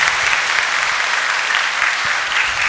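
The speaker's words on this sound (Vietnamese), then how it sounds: "Xin công đoàn nổ tràng pháo tay để chào đón Đức Tổng nữa." Loud, dense applause from a church congregation welcoming an archbishop during a confirmation Mass marking a parish anniversary. The clapping is sustained and even, with no talking.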